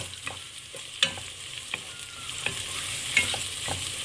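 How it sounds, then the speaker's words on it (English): Sri Lankan fish curry being stirred in a pan: a spoon scrapes and knocks the pan in irregular strokes over a steady, close sizzle. "give it a good mix."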